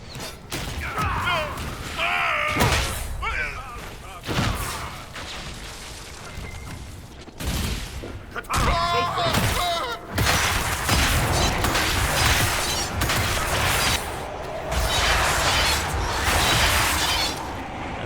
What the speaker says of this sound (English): I probably should not be detonating these things on top of the bridge